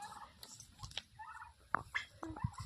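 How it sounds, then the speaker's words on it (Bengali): Turkeys gobbling nearby in a backyard flock, several short bursty calls and clucks scattered irregularly over a quiet background. "দাসবাবু বরাবরই টার্কি মুরগি আনবে টার্কি মুরগি আনবে করে অনেক বলেছে"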